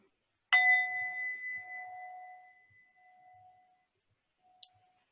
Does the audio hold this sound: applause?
no